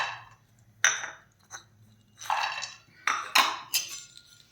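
Almonds, cashews, walnuts and makhana are stirred in a pan to roast, giving soft scraping swishes and a few sharp clinks of spoon on metal in irregular bursts, fairly quiet and close, with no talk.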